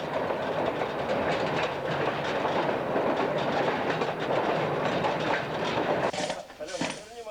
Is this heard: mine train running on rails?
yes